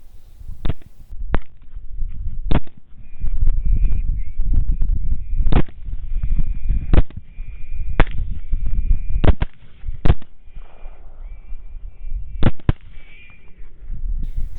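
Rifle shots ring out at hogs on a North Texas night hunt, about ten sharp cracks spaced unevenly over steady background noise, with bleating animal calls in between.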